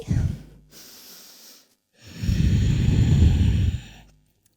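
Slow, deep breaths close to the mic during a yoga session in downward dog: a short exhale, a quiet pause, then a long, heavy breath out.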